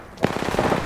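Short burst of rapid automatic gunfire in a battle royale shooter, a quick run of sharp, evenly spaced cracks lasting under a second, loud and close with no talk over it.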